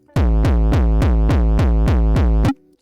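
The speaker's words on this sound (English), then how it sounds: "now it sounds to start like an old school hardcore kick" Synthesized uptempo kick drum in old school hardcore style hits nine times in a fast, steady pulse, each punchy and distorted with a sharp attack, loud and alone.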